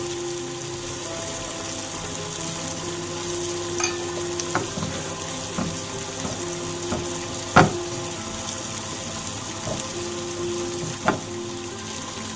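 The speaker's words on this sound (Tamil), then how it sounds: "அந்த ஸ்ப்ரிங் ஆனியனை மட்டும் லைட்டாக ஆஃப் குக்டாக அதை வந்து ஃப்ரை பண்ணிக்கிறேன்" Spring onion frying lightly in a kadai, a steady soft sizzle running throughout with a few sharp clicks and taps of a utensil stirring against the pan; no talk.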